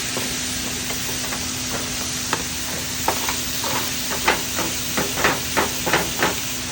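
Steady sizzling of ground beef frying in a pan, with a constant hiss and scattered crackles and pops that grow more frequent toward the end.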